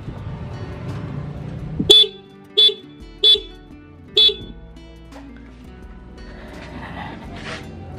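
A Honda Beat motorcycle horn, tested after adjustment, gives four short loud beeps at uneven intervals against a low background hum.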